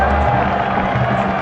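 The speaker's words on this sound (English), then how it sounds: "And the crowd are ecstatic." Cricket crowd roaring and cheering steadily as a batsman brings up his half century in a T20 international, a dense wall of massed voices with no break.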